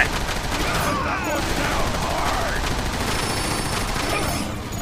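Rapid gunfire crackles in bursts throughout a fight in the video game Transformers: War for Cybertron, dense and continuous with game effects and a voice mixed in.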